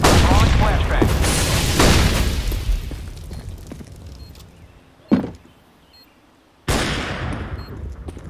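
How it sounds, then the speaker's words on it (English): A flashbang grenade goes off during a bomb retake in a tactical shooter game, marked by a sharp burst about five seconds in and a second loud blast near the end, following a long rumbling tail. "Throwing flashbang."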